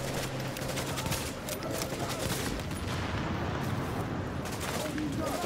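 Gunfire in the video game The Division, with a sniper firing at the player, heard as a dense, continuous barrage of shots and explosive bursts, loud and unrelenting.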